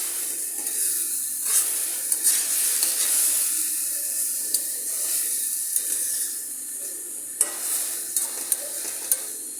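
A vegetable bhaji fries in oil while being stirred, giving a steady bright hiss and sizzle with periodic scraping strokes and small clicks of the spatula against the pan.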